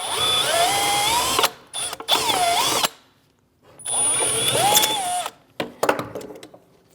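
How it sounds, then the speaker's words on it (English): Power drill boring out rivets on the fuel filler neck trim of a 2011-2018 Ram 1500, whining motor bursts that rise and bog as the bit bites, separated by short pauses and clicks. "Using a drill with a drill bit, go right down through the center and take the top off."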